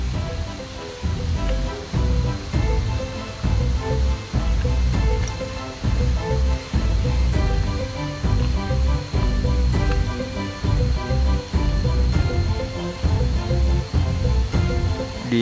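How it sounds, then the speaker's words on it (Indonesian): River stream flowing beside a hillside trail to a waterfall in Serang, Banten, a continuous loud rushing wash of water heard close, with footsteps or thumps tapping in a loose rhythm throughout. "Di samping saya ini tuh ada aliran sungai, guys."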